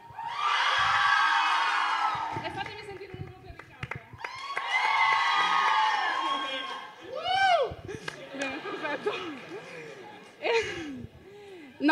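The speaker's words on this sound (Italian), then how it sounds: "fatemi sentire un urlo per Edoardo" A crowd at a fan gathering for an Italian television series lets out loud shouts and cheers in two long bursts, then scattered whoops, laughter and excited calls follow close by.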